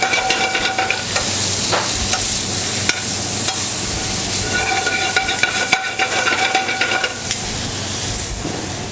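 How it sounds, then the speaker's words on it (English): Spinach wilting in olive oil in a cast iron pan, a loud close sizzle with repeated stirring scrapes and clanks, no voices. "We'll just quickly wilt the spinach."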